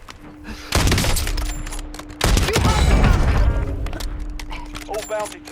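Sniper rifle gunfire in Warzone comes in two loud, sharp cracks, the second about a second and a half after the first, each followed by a rattling mechanical tail. Game sounds and a faint tone fill the gaps between shots.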